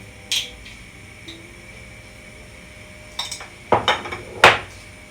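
Spoon stirring tomato soup in a metal pot, scraping and clinking against the sides in a few close bursts toward the end after a quiet stretch, with no talking.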